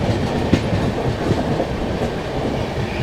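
Kashi Mahakal Express from Varanasi to Indore, hauled by a WAP-5 locomotive with a generator car running, rumbles loudly in a steady roar with rhythmic clickety-clack of wheels over rail joints, heard from on board.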